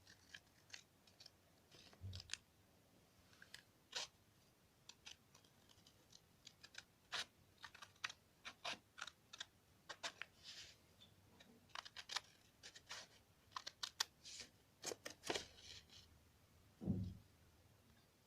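Scissors snip along the outline of a paper cutout, giving a long run of quick, crisp, irregular clicks and cuts that are close and fairly quiet, with no talking.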